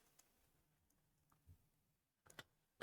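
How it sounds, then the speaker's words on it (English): Scattered soft clicks of a computer keyboard being typed on during a parks and recreation meeting, faint and irregular, with a few louder taps near the end. "Sorry, I'm typing as fast as I can, guys."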